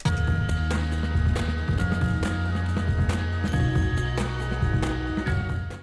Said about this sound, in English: as we move forward, a new keyboard comes in